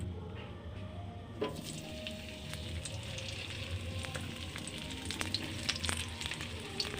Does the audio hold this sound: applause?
no